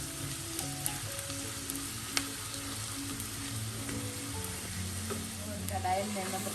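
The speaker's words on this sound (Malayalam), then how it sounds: "ഇതോടെ പൊടി മൂപ്പിക്കാം." Spice powder roasting in a hot pan for a Kerala-style buffalo meat roast, a faint, steady sizzle with occasional soft scraping and clicks from stirring.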